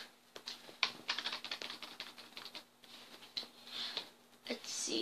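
Fingers typing on a computer keyboard resting on the floor, producing a steady run of quick, close clicks and taps with short pauses between bursts.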